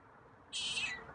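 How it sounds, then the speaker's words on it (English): A feral cat gives a single, slightly louder meow, a short high-pitched cry lasting about half a second against quiet background hiss, with no talking. "there's a slightly louder meow."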